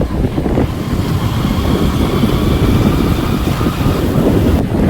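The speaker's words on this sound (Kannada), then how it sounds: "ಗಾಳಿ ಸೂಪರಾಗಿ ಬೀಸ್ತಾ ಇದೆ." Steady wind gusts across an outdoor market in Vijayapura during Ramadan, a continuous broadband rush and buffeting close on the microphone with no voices over it.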